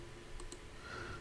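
A pair of quick, faint mouse clicks on a computer in a quiet room.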